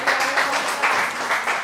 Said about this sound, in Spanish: Dale un aplauso al Cordero en este día.